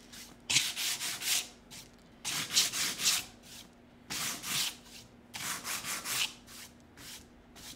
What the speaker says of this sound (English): we're gonna take our sanding block and we're just gonna sand while it's wet